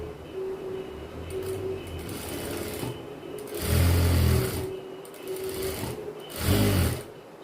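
A domestic sewing machine stitches a girl's silk skirt in short running bursts, with louder, faster passages near the middle and end separated by slower, steadier whirring.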